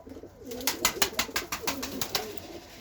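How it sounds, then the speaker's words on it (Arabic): Repeated pigeon coos, a steady rhythmic series of soft throaty calls, close by, with faint background noise and no talking. "هاي الطيره، هاي طيره الباذنجانيه"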